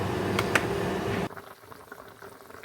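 Bengali mustard and poppy seed pabda fish curry bubbling in a pan, a close steady boil that cuts off abruptly halfway, leaving faint quiet bubbling.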